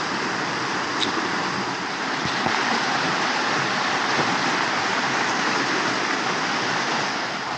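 Steady rain falling at Rumah Kebun Camping Ground, a forest campground beside a pond, a dense continuous hiss with occasional louder drips, unbroken and with no voices.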